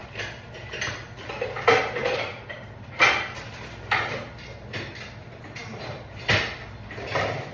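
A lid clanks onto a pot of simmering lobster bisque with lump crabmeat, several sharp metallic knocks and scrapes spaced a second or so apart in a quiet kitchen.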